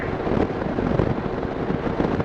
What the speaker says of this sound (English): It's already kind of windy today